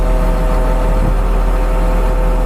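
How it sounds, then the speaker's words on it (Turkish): Caterpillar 140M motor grader diesel engine idling during a service check, a loud, even, low rumble with a constant mechanical hum and no talking. "bak motorun sesi değişti"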